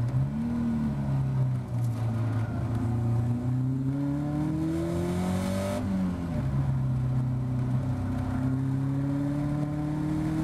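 A Caterham race car engine revs hard through the gears on the Cadwell Park circuit, its pitch rising and falling with each shift and a sharp drop near the middle. The engine stays loud and close throughout, with no voices.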